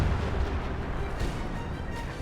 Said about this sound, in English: Artillery is coming down.